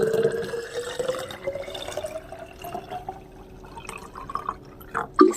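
Water poured into an empty bottle, a steady gurgling stream whose pitch rises as the bottle fills, ending with a few splashes.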